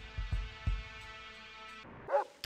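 Several dog barks and yips from the video game Fallout: Nevada, low thumping woofs over a droning game background, followed by a higher whimpering yelp near the end.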